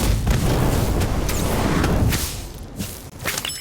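Incendio fire spell cast in Harry Potter Magic Awakened, a loud rumbling whoosh of flame with crackling bursts that drops off sharply after about two seconds, leaving fainter pops.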